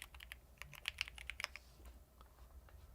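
Mechanical keyboard with switches close to Aqua Kings, typed at a quick irregular pace, producing a run of crisp, fairly near clacks that thin out and stop partway through, leaving a quiet low room hum.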